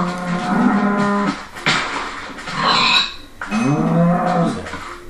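Several cattle moo on a cow farm inside a video game, with long, loud low calls repeating every second or two and one rising, drawn-out bellow near the end, with no talk.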